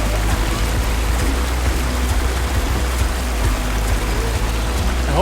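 Continuous rushing water flows steadily close by beneath a bridge in a South Korean neighbourhood, a dense, even wash of sound with no talking.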